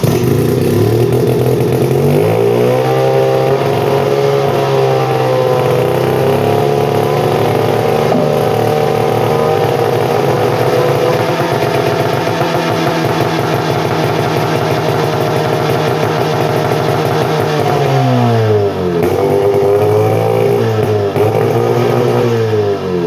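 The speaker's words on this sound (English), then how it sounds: "let's make outboard noises" A 20 hp Mercury outboard motor with a pulled shift shaft and a flywheel and timing-advance fault runs steadily and loudly close by, its droning pitch dipping and rising as the revs change, with no talking.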